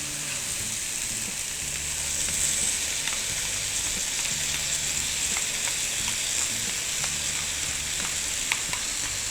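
Sauce sizzles and fries steadily in a pan of shrimp being stir-fried, a continuous close crackle with a few small pops, no one speaking.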